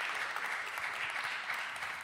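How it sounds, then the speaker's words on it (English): A church audience gives a soft, scattered golf clap that thins out and tapers away, light and fairly distant. "That was like a golf clap that got some traction but faded off"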